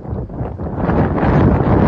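Strong wind on a cliffside in Malta buffets the microphone in a steady, rushing roar that swells slightly louder toward the end.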